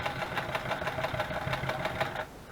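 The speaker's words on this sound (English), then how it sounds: "I'm not back stitching since I got my seam guide on" A sewing machine runs steadily while stitching a seam with a seam guide fitted, giving a fast, even mechanical whir with regular clicking pulses that continue close up and then stop abruptly near the end.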